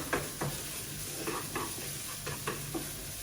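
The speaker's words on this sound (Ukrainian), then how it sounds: "Перемішуємо." Onion and garlic frying in butter while being stirred, a steady close sizzle broken by a regular series of short scraping strokes from the spoon.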